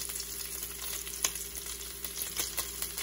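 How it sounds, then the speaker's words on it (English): Chopped bacon fries in a pot, a dense, steady crackling sizzle with small pops throughout, close and continuous with no voices. "it feels like bacon cooks a little slower when it's cut up"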